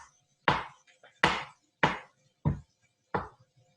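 A knife cuts through a mushroom on a cutting board with five distinct, evenly spaced chops, crisp and close, in otherwise quiet surroundings without speech.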